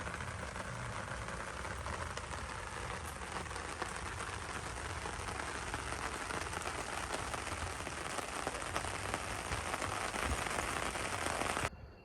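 Steady rain pours down during severe weather at Lake Whitney, Texas, a dense continuous hiss of drops on surfaces around a camper that stays even and close for the whole stretch before cutting off abruptly.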